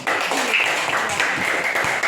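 Pupils in a classroom give a burst of clapping, a thick, steady wash of many hands at close range that holds evenly throughout with no speech over it.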